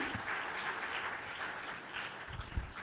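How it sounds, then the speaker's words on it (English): Applause from a conference audience at an opening ceremony, a fairly quiet, distant patter of many hands clapping steadily without voices. "Applause, please."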